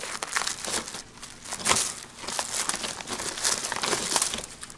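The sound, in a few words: plastic wrapping of sulfur sack being opened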